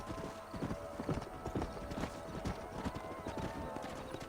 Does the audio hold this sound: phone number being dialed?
no